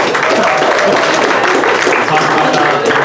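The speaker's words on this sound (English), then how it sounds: "let us start by giving ourselves a round of applause on a successfully completed Q3" Employees at a company town hall applaud a completed third quarter, a loud close, even roar of clapping that stays constant throughout the few seconds.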